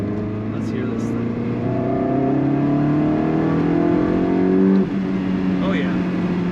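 A 2004 Ferrari 360 Spider F1 convertible engine revs with a loud, close, sustained growl, its pitch climbing in smooth sweeps before easing off near the end.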